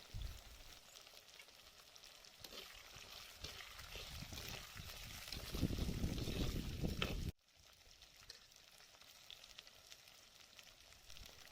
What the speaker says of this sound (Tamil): வெங்காயம், பூண்டு, தேங்காய் எல்லாம் நல்லா எண்ணெயில் வதங்கிடுச்சு